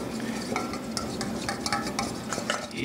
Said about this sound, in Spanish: Después se comienza a batir